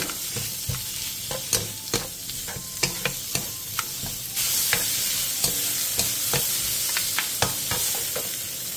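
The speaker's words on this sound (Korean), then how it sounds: "팬에 기름을 두른 뒤 오이와 다진 마늘 반 스푼을 넣고 센 불에서" Cucumber and minced garlic stir-fry over high heat in an oiled pan: a constant close sizzle punctuated by regular sharp spatula scrapes and taps, the hiss swelling louder partway through.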